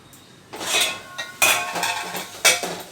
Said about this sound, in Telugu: ఇప్పుడు దీనిపైన ప్యాన్ పెట్టేసుకుందాం